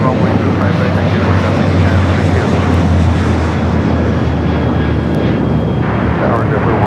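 An airliner roars steadily during takeoff from a runway at Los Angeles LAX airport, a loud, continuous low engine rumble with radio voices heard over it.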